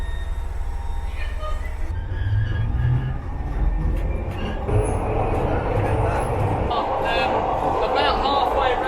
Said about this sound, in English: About halfway around the Glasgow subway, these old Metro Camel units, which are being replaced soon